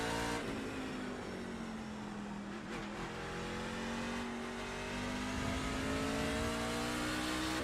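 A Mazda MX-5 race car at full throttle on the Lime Rock Park circuit, the engine note climbing steadily in a loud, continuous rev heard from the cockpit, with a brief shift-like dip partway through.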